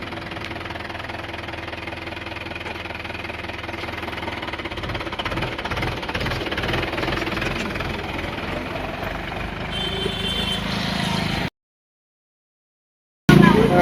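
A tractor engine idles with a steady low chugging and knocking rumble for about eleven seconds, then the sound cuts to silence before a short loud burst returns at the very end.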